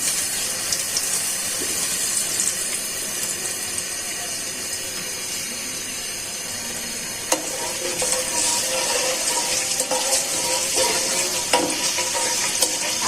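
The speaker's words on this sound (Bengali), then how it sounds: "কড়াইতে চিনিগুলো দিয়ে দিচ্ছি তেল" Sugar hits hot oil in a wok and sizzles with a continuous, fairly even hiss while beef rezala is cooking at home.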